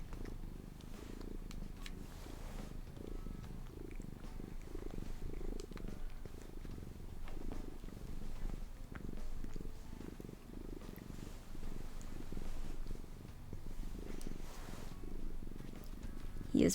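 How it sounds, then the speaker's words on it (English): A cat purrs loudly and steadily right at the microphone, a continuous low rumbling that rises and falls with each breath for the whole stretch. "He is purring so loudly too."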